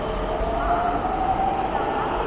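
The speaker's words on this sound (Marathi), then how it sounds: "आता ही गाडी चालली वनाजला" A Pune Metro train pulls out of PMC station toward Vanaz with a steady, rising electric hum and rumble heard from the platform.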